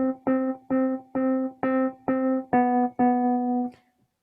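A sustained solo violin melody from the Largo of a Bach violin sonata, seven or eight separate bowed notes, each held about half a second with a slight swell, in a steady, slow rhythm.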